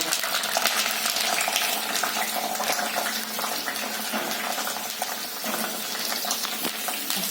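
Curry leaves dropped into a spoonful of hot oil for a spicy mixed-vegetable dish: a steady, loud, close sizzle and crackle with a bright spattering hiss that continues without a break and has no talking over it.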